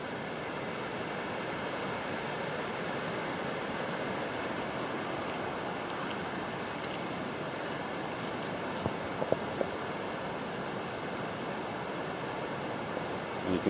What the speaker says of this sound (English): And you can hear the river down there continuing